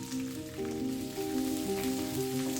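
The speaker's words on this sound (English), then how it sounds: "we add 1 tablespoon of chana dal, 2 cut red chilies, curry leaves and 2 chopped onions." Chana dal, cut red chilies, curry leaves and chopped onions hit hot oil for masala dosa filling, raising a continuous soft close sizzle beneath sustained tonal background music.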